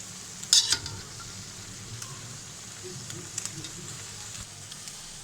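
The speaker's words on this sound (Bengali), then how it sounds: "চিকেনটাকে আমি ভালোভাবে ভেজে নেব" Chicken fries in a pan with a soft, steady sizzle, and a few brief metallic utensil clanks rise above the faint, continuous hiss.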